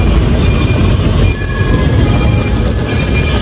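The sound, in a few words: metro train passing in Dhaka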